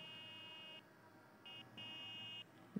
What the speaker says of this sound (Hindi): हॉर्न भी आप सुन सकते हो इसकी